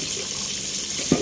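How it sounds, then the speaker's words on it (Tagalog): Tap water runs steadily into a sink while tomatoes are washed, a short continuous splashing rush with a small knock near the end. "kung kamatis ngayon, eh, hugasan ko sa mga kamatis."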